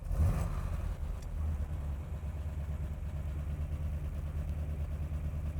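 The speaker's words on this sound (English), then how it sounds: "listen for is the sound of the solid lifter big block" A 1971 Corvette Stingray LS6 big block with solid lifters idles with a deep, steady rumble close by, a brief louder burst at the start settling into an even, lumpy low throb.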